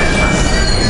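A Paris Metro train pulls in with its wheels squealing loudly and steadily against the rails. A broad, harsh metallic screech fills the whole short moment with no voices.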